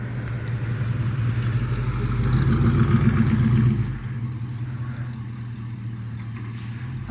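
A 1975 Chevy C10 pickup truck that has been sitting a long time, its engine running close by with a rough low rumble that rises briefly, then drops back to a steadier idle.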